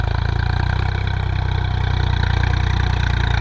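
A tractor engine idles and chugs steadily at close range in a field being prepared for cotton planting, a loud, even rumble with no voices.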